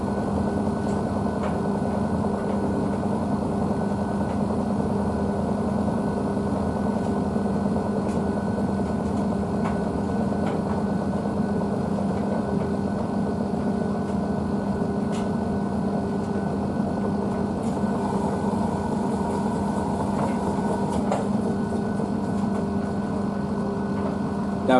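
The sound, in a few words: Blomberg WNF9448 washing machine spinning at 600 RPM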